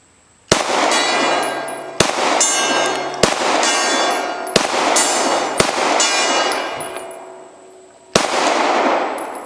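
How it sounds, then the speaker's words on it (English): Six loud, close shots from a Glock 19 pistol strike a steel gong, each impact a bright metallic clang that rings out for over a second before the next, spaced fairly evenly, ending with a longer pause before the final hit. "I gotta shoot the gong"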